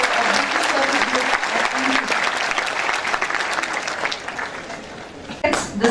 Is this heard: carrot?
no